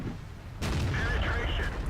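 A Super Pershing tank's main gun fires in a tank video game, one loud sudden boom with a sharp onset followed by a sustained rumbling roar and engine noise.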